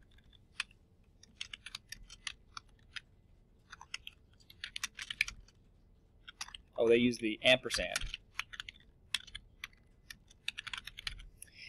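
Keys on a computer keyboard clatter in irregular bursts of quick taps while a PowerPoint title is entered, with a brief spoken remark partway through.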